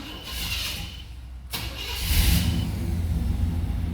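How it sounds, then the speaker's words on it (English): A 1973 Chevy Caprice engine cranks and catches at about one and a half seconds, then settles into a steady, loud idle close by with no talk over it. "Let's start the vehicle up."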